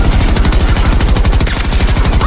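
Rapid automatic gunfire from the shooter game Battlefield 2042, loud and close, a continuous fast burst of rhythmic shots lasting the whole moment.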